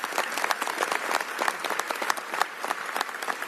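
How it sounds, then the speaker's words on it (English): An audience at a governor's bill signing applauds the bill's sponsors, a bright, dense wash of many hands clapping close and steady, with a few sharper individual claps standing out. "Give them a huge round of applause"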